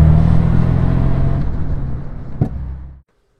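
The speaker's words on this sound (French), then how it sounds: "La sonorité de ce moteur XK est incroyable." A Jaguar XK140 cabriolet's XK engine runs at a steady, rich idle, close and loud, with a brief sharp knock near the end before the motor cuts off abruptly into silence.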